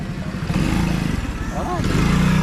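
A motorcycle engine runs close by as the bike pulls away in first gear, a loud, uneven putter that rises slightly, with people talking over it.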